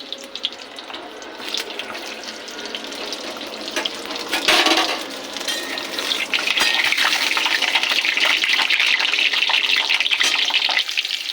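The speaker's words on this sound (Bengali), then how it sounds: "এগুলোকে আস্তে আস্তে ভেজে নেব।" Hollowed pointed gourds (potol) sizzle slowly in an oil-filled pan, a steady close bubbling hiss that swells louder partway through and carries on with no talking.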